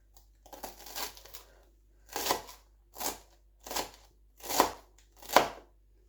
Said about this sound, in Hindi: तो अब इसको जितना बारीक काट सकें वो काट लेंगे इसको।